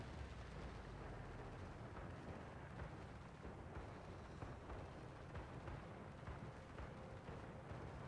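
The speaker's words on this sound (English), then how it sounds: "we've got guns firing away" Anti-aircraft guns firing in the World of Warships naval game, a dense, continuous, rumbling barrage of muffled blasts that blend into a steady roar, fairly quiet and without talk.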